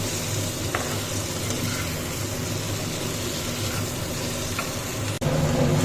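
Potatoes and pointed gourd frying in oil with black cumin seeds, a steady dense sizzle throughout, close and even, with a faint clink of a utensil near the end.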